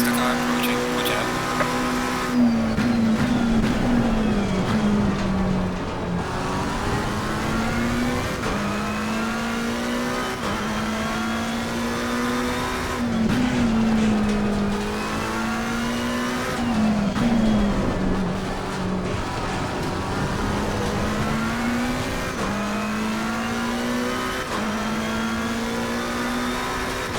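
A McLaren 720S GT3 race car in Assetto Corsa Competizione at Zandvoort revs loud and continuous, cycling through upshifts and downshifts with repeated rising and falling engine pitch over tire and track noise.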